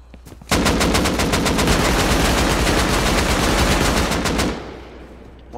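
Rapid automatic gunfire during a video game raid on an enemy base, a loud, dense burst of machine-gun shots lasting about four seconds, alone without talk.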